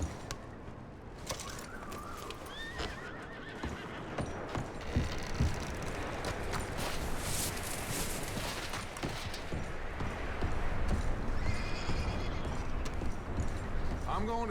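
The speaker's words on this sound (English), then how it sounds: "I'm going to start packing the horses." Horses in the Red Dead Redemption 2 video game snort and whinny while hooves clop around a camp. Steady ambient game sound and birdsong run throughout, and people talk over it.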